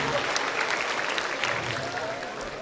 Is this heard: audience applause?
yes